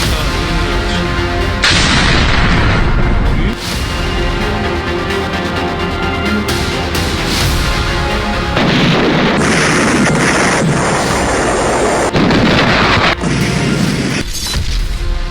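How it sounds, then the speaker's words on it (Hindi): Loud, heavy explosions from a night-time drone strike on Iran come in repeated booming bursts with crackling rumble between them. "इजराइल के धमाके"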